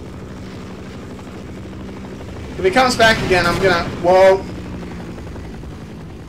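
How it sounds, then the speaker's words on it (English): A helicopter in the video game Half-Life hovers with a steady droning rotor hum throughout, while someone talks excitedly over it. "I wonder if I'm supposed to shoot down the helicopter."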